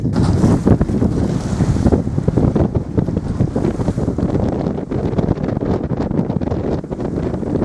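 Steady wind buffets the microphone aboard a sailboat heading into the Bay of Biscay, with choppy sea washing and slapping against the hull underneath, loud and continuous throughout.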